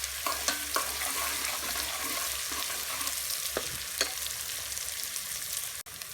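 Ginger garlic paste with green and red chili stirred in a frying pan, a steady sizzle with occasional spoon scrapes and taps, close and alone.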